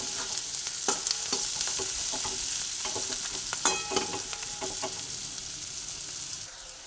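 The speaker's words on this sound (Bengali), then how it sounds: "পেঁয়াজ ভাজা হয়ে এসেছে" Onions fry in a pan with salt added, a steady bright sizzle running throughout, broken by frequent scraping and stirring clicks of a spatula, close and fairly loud with no voices.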